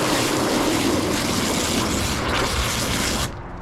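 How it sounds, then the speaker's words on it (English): A foam cannon sprays ceramic car wash suds over a car with a loud, steady hiss, close to the microphone, cutting off sharply near the end. "let me just go ahead and put the foamer down"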